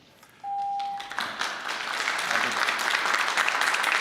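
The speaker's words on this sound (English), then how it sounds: "We don't do applause, we don't do boos." Applause breaks out at a Burlington city council meeting right after a short electronic beep, a dense patter of clapping that swells and holds steady across the room, with faint voices mixed in.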